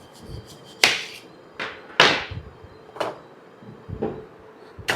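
A knife chops an onion on a cutting board for goat head curry, giving about seven sharp, close, evenly spaced thuds with quiet gaps and no talking.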